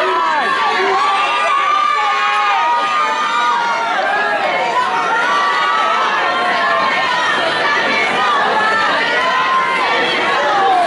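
A dense live concert crowd at an indoor music venue cheers and screams continuously, many voices overlapping in loud, sustained shrieks and shouts with no pause.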